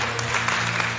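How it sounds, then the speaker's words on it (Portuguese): A church congregation applauds in praise, a steady burst of many hands clapping over a low sustained organ-like hum, brief and fairly loud. "Aplauda o Senhor."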